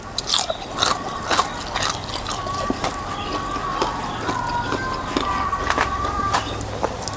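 Crispy pork chashu being bitten and chewed close up, a run of sharp crunchy bites and wet chewing that carries on steadily throughout, with no talking.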